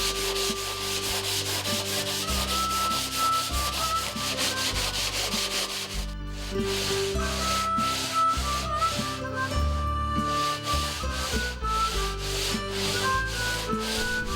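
Sandpaper rubs by hand across a wooden stump table in steady rhythmic strokes, the scratchy swishes repeating under a tonal musical background.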